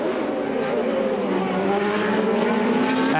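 Formula 1 cars race at the 1989 French Grand Prix, their high-pitched engines wailing steadily and rising as they close in on the listener, with no break in the sound.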